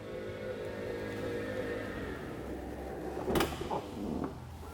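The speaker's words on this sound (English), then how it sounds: "Door will close." The powered sliding side door of a 2020 Winnebago Revel camper van closes. A low motor hum runs under a short mechanical whir, and a firm latching clunk follows near the end.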